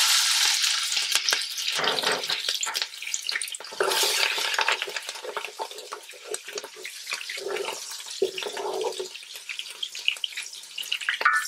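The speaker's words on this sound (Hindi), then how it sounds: "इसमें आप डालेंगे ज़ीरा 2 टीस्पून, हरी मिर्चें इसमें जाएंगी" Cumin seeds and three green chilies frying in about half a cup of hot oil in a pan for chicken curry, a loud, steady crackling sizzle with clattering stirring throughout, no talk.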